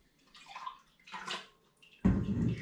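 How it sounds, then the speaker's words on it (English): Hoppy tea is poured from a jug into a strainer for home-brewed IPA: two short splashy bursts come first, then a louder, sustained close pour. "I'll pour that into the strainer"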